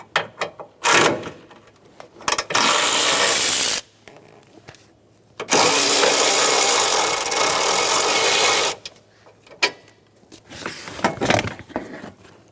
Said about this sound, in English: Using a 13mm socket,